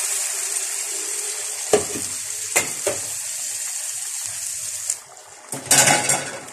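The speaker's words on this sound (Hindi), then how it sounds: "अब आपने जितना शोरबा बनाना है उतना ही आप पानी डाल सकते हैं।" Water poured into a sizzling curry base for shorba hisses and bubbles in bursts over steady frying, close by.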